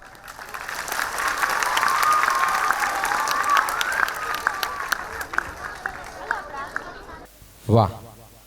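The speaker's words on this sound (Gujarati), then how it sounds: "દીકરી માટે ખરેખર તાળીઓ થઈ જાય" An audience at a school annual function applauds a girl's performance with sustained clapping and some crowd murmur. The applause fades out, and a voice speaks briefly near the end.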